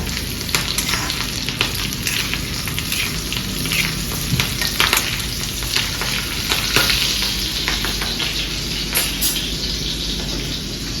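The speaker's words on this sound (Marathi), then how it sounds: "तडतडू दे जरा मिरचीला" Green chillies crackling as they fry in hot oil in a pan, a dense close sizzle scattered with sharp pops that continues steadily with no talking.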